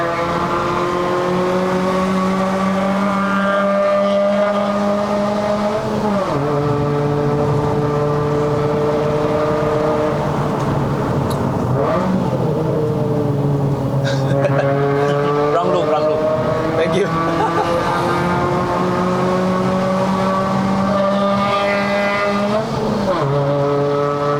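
A Proton Inspira 2.0 with a five-speed manual gearbox climbs the winding road up to Genting in Malaysia, its engine droning loudly and steadily from inside the cabin, pitch rising and dropping with each gear change.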